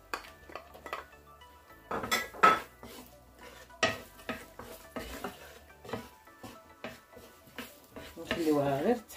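Sliced garlic goes into a pan with olive oil, followed by clattering cookware, a utensil scraping and stirring, and a light sizzle. Sharp metallic knocks come at irregular moments, and a voice speaks over parts of it.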